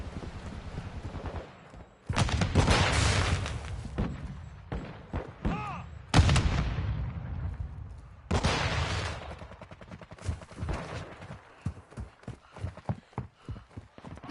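Gunfire in Modern Warfare 2 gameplay rings out in loud bursts of rapid shots separated by pauses, with scattered single cracks and quieter stretches between volleys.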